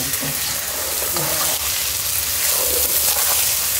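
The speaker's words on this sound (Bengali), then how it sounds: "মিক্স করা পোলায়ের চাল দিয়ে ভালো করে ভাজতে হবে" Pulao rice frying in oil and ghee with cardamom and cloves, a dense steady sizzle with faint stirring scrapes, close and continuous.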